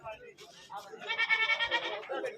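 A goat bleats loudly nearby with a wavering, drawn-out cry, following a brief murmur of voices at a goat market in Mullanpur.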